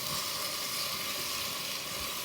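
Beef searing in a hot pan, a dense continuous sizzle and hiss holding steady throughout, close-up and without any talking.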